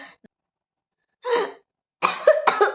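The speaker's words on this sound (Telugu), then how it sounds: "నాకు దగ్గు వచ్చేస్తుంది" A few harsh coughs close up: one faint short burst, a pause, then a louder cough followed by a quick double cough.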